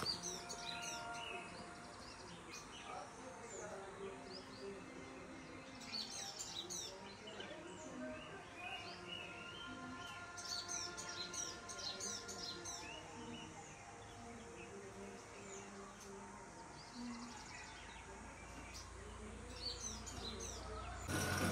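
Morning birdsong in a quiet Malvan village, with sunbirds close by: a steady stream of high chirps and twittering calls overlapping throughout, against a soft continuous background.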